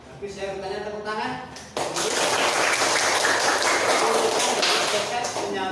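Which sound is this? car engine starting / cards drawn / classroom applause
classroom applause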